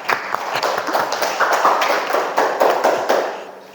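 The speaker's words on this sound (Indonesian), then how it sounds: "beri tepuk tangan untuk Putri Ananda" A classroom of students applauds a student, a dense patter of hand claps that builds and then fades over a few seconds.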